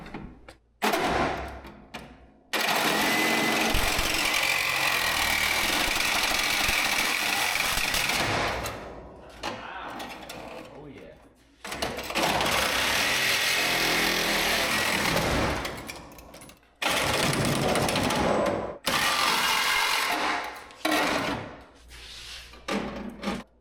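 A power tool cuts through a steel leaf spring in loud, harsh bursts of grinding and whining, several seconds each, broken by short pauses of near silence.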